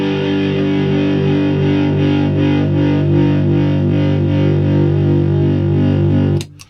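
A single heavily distorted electric guitar power chord rings out loud and sustained for several seconds, then is abruptly cut off.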